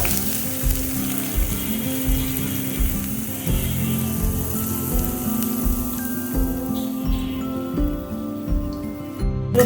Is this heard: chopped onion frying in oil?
yes